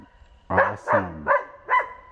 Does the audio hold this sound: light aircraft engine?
no